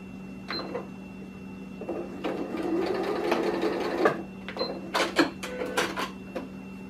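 Sewing machine running bursts of stitching on a shoulder strap for a folding table, several short runs and one longer steady run with a constant motor hum beneath, close and fairly loud with no talk.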